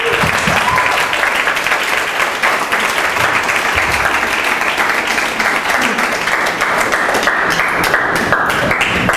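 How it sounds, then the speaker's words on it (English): A crowd at a Startup Grind tech event in Kuala Lumpur applauds a speaker, with steady, dense clapping that stays loud and fills the room throughout. "Just for now, a round of applause for Douglas, please."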